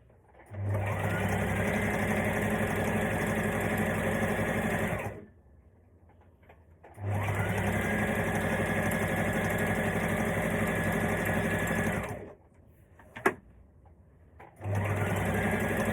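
A sewing machine stitches fabric for a maxi skirt in three long, loud, steady runs of whirring with short quiet pauses between them, and a small click in one gap.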